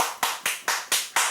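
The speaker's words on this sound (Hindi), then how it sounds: "ताली क्या बजा रहा है?" Six sharp hand claps in a steady, even rhythm, close and fairly loud, with no talking.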